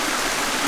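Waterfall in Vermont, a close, steady rushing wash of falling water, dense and even for the whole short moment with no voices.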